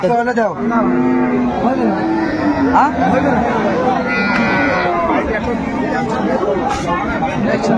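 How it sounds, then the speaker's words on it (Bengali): Cows moo loudly and repeatedly at a busy rural cattle market, with a steady hubbub of nearby voices and people talking throughout. "এই পাশে একটা গাভী।"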